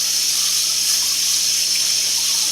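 Tap water runs steadily into a sink while waiting for it to warm up for handwashing, a constant close hiss and splash with no pauses and no talk.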